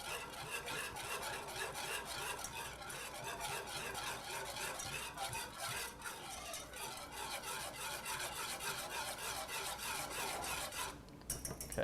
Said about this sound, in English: I'm going to whisk this.